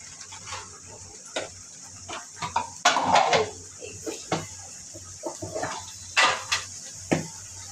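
A spoon scraping and clinking in a pan as spices with ginger paste and salt are stirred and fried, in irregular bursts over a steady background hum.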